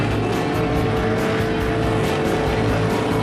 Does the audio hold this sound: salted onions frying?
no